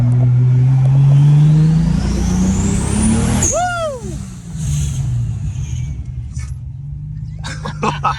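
A 400 HP 2JZ-powered SC300 accelerates hard, a loud engine roar climbing through the revs and then dropping off abruptly, followed by quieter idle and road noise with brief sharp sounds near the end.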